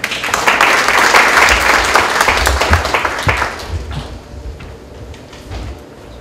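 An audience at a presentation event applauds loudly and densely to welcome a presenter, the clapping swelling early and then fading out over several seconds into quiet room noise.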